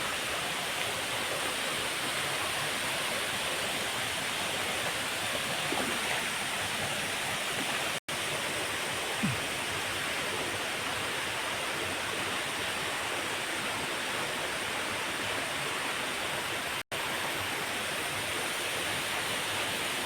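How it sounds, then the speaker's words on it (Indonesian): Semaba waterfall rushing steadily in a forest, a constant broad roar heard from some distance with no talk, interrupted only by two brief dropouts. "Riam air terjun Semaba."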